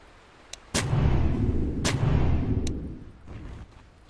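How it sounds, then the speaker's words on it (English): Shooting in Dota 2: two loud, booming impacts about a second apart, each followed by a rolling low rumble, with faint sharp pops around them. "Sure is shooting."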